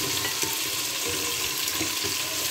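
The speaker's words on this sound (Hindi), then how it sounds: "चिकन डाल के भुनाई कर रही हूँ मैं" Chicken sizzles loudly in a pan as it is fried for bhuna, a dense, continuous crackle with soft stirring scrapes throughout.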